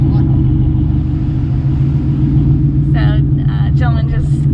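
A VMP Gen3R supercharged Coyote Mustang in Track Attack exhaust mode rumbles at a loud, steady idle close by, with a voice speaking over it near the end.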